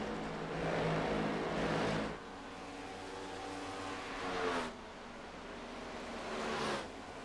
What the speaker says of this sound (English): See how his car sounds again. Hear the tires slide a little bit